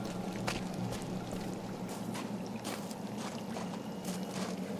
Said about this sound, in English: Sounds like we're on gravel.